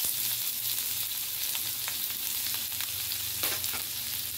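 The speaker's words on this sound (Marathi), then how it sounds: "आता मी थोडासा जिरं टाकणार. बारीक चिरलेला कांदा टाकून देणार." Cumin seeds and finely chopped onion frying in hot oil for egg bhurji, a continuous crackling sizzle with light stirring taps, close but fairly quiet.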